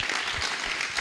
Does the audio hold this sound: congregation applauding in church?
yes